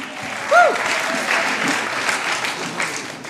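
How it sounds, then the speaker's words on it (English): A crowd claps steadily and loudly in a broad, continuous wash of applause, with a brief whistle near the start. "So y'all give yourselves a round of applause."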